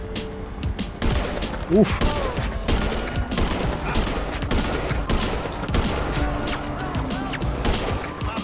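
Sniper and marksman rifle gunfire in a video game, a dense run of sharp close shots and bursts over rumbling game noise, with a brief spoken grunt.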